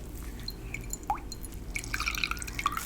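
Soapy water drips softly and up close, a scattering of small drops landing irregularly over a faint background hiss, with no talking.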